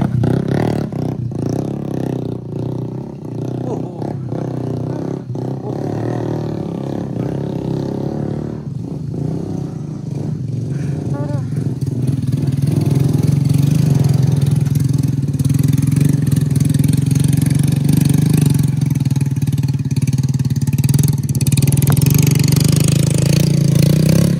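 A motorcycle engine labors up a steep road on the Pessel–Solok route, a continuous roaring drone that grows louder and heavier in the second half as the climb continues.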